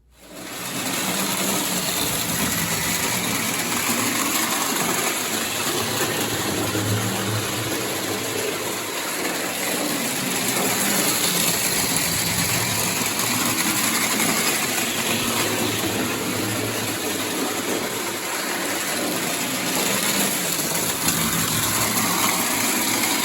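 The small motor of a Marx Flyer Burlington Zephyr 9900 toy train hums steadily and continuously, with a faint mechanical whir and light rattling throughout, close and fairly loud.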